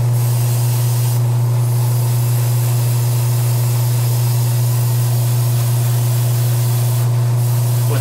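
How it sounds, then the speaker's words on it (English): Spray paint goes on in a heavier coat as a steady, loud, continuous hiss with a constant low hum underneath, broken by brief pauses in the spray. "Get to laying down a heavier coat of paint."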